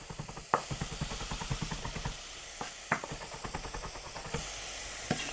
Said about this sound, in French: Ensuite, je prends mes gousses d'ail. On va venir hacher.